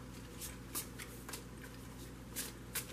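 Tarot cards being shuffled and handled for a love reading, giving a steady soft riffling with several sharper card snaps, close and quiet, with no talking.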